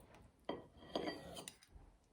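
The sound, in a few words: knife slicing tofu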